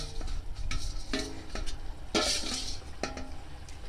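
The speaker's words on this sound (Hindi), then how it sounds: "तो यहाँ पे इसको अच्छे से भून लेंगे" Onion chicken karahi is stir-fried village style in a metal wok, with repeated ladle scrapes and clanks over a faint background sizzle at moderate volume.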